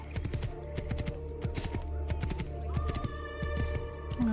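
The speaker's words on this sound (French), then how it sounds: "ça fait longtemps qu'on n'avait pas entendu les bruits de sabots" Horse hooves clip-clopping steadily in Assassin's Creed II, a rapid, even rhythm of close, distinct hoofbeats over a low background hum.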